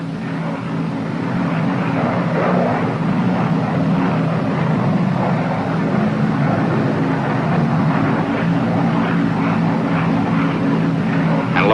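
Steady drone of a P-61 airplane's propeller engines set to 2,400 RPM, a continuous even hum running throughout without any break.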